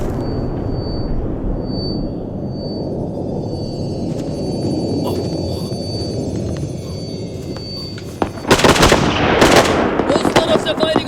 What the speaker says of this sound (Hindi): फायरिंग वहाँ से हो रही है